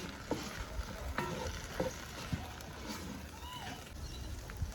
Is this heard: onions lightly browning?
yes